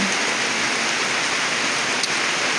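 Heavy rain pours steadily in Mawab, Davao de Oro, in a dense, loud, unbroken hiss that lasts throughout, with no voices.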